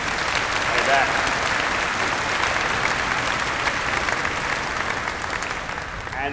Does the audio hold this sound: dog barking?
no